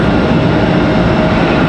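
Boeing 777 jet airliner fitted with Rolls-Royce Trent engines at Raleigh-Durham airport, a loud, steady broadband roar with a faint whine running through it, continuous and close for the whole stretch.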